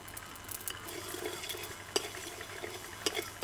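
Mustard seeds spluttering in hot oil for a prawn pickle, a faint, steady frying crackle with a few sharper pops and light utensil clinks, no voices.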